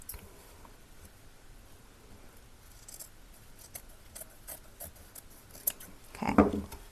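Scissors cutting through fabric during a DIY wall-pocket thrift flip, heard as quiet, sparse snips and rustles that end in a louder, closer cut.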